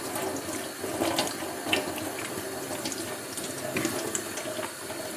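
Tap water runs steadily into a kitchen sink while celery stalks are rinsed under it, a close, continuous splashing rush with slight variations as the stalks are handled.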